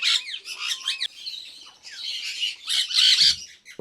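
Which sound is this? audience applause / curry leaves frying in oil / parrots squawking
parrots squawking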